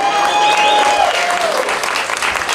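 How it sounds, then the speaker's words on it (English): Loud, sustained audience applause and cheering at a Virginia political rally in Goochland, October 2020, filling the whole stretch with a brief whistle near the start. "Please put your hands together for Patti Lyman"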